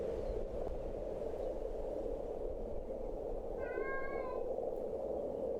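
A cat in the video game Fear Of Forget gives a single short, faint meow over a steady low background hum.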